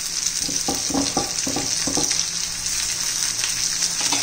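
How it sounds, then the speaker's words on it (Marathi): Onion and potato frying in a pan for poha sizzle steadily as chopped tomato goes in, with a quick run of stirring scrapes near the start and one more toward the end. "कांदा बटाटा झाल्यावर टोमॅटो घालून घ्यायचा आहे"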